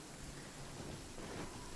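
Rain pours steadily during a thunderstorm in the video game Genshin Impact, a faint, even wash of falling water with a soft low rumble of thunder and no speech.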